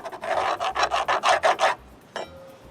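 A saw cuts a 1/2-inch by 7.25-inch Trex pebble gray composite fascia board in about eight quick, close, rhythmic rasping strokes, then falls quiet apart from one short scrape.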